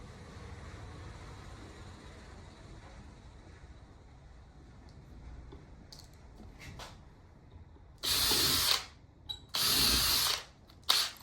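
After several seconds of quiet hum, a nearby power drill bores holes with a 4mm bit in two loud bursts, with a few short clipped whirs in between and after.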